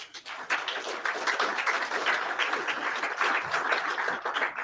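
Steady applause from an audience at a hospital graduation-style ceremony, a dense continuous wash of many hands clapping at moderate distance without a break.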